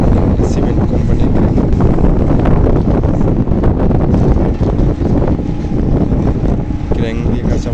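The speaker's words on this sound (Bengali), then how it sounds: "আর নদী বাতাস, প্রচন্ড বাতাস" Strong wind gusting over the Meghna river near the Meghna bridge and cement company cranes, with small boats on the water; a loud, steady roar of wind buffeting the microphone throughout, with no clear voices.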